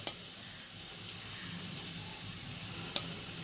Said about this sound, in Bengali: চালটাকে আমি এর সঙ্গে অ্যাড করে দিলাম। দিয়ে আবারও একটু নাড়াচাড়া করে নেব।